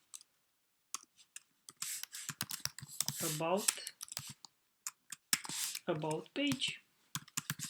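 Code typed on a computer keyboard, with quick bursts of crisp key clicks between and under a man's nearby speech.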